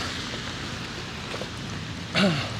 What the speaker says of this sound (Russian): начался дождик.